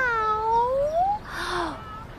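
A single drawn-out cat meow, rising then falling, followed by a shorter breathy mew, close and clear.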